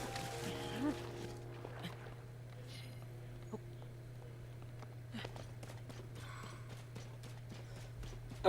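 Horse hooves clip-clop at a walking pace in a video game, a faint steady patter of footfalls beneath a constant hum and background game sounds, with no talk over it.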